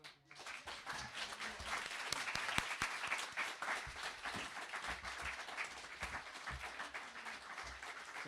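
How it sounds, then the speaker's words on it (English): Audience applause after a public book reading, a sustained wash of many hands clapping in a room, steady and moderately distant throughout, with no one speaking. "can we get one more round of applause"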